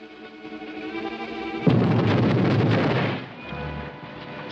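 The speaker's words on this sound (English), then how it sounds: "Explosion. Beneath bank." A sudden explosion goes off beneath a bank in a 1945 film, preceded by a sustained musical drone, then a heavy rumbling blast that roars for about a second and a half before dying into low, muffled rumble.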